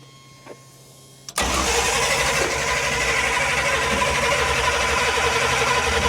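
A Pontiac GTO engine cranks and fires, jumping from near silence into a loud, steady roar that holds for about five seconds, close by.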